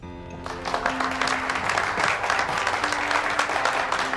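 Loud, dense applause from a crowd rises suddenly after a brief moment of quiet and continues steadily, with a faint sustained tone underneath.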